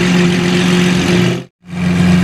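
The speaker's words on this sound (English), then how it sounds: "Ryft exhaust, SVJ is pulling in." A loud, raspy SVJ supercar with a straight-piped Ryft exhaust rumbles steadily as it pulls in, drops to silence for an instant, then resumes its deep, throaty idle.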